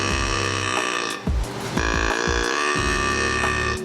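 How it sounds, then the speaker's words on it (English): A Kennedy Dirty Little Doe deer call is blown while its control knob is turned, giving a low, throaty, grunting doe bleat with a brief break partway through, loud and close. "Start to blow into the call and turn the control knob downward and release air into the chamber"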